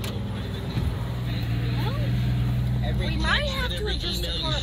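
A 1965 Plymouth Barracuda engine runs close by with a steady low rumble, a person talking over it the whole time.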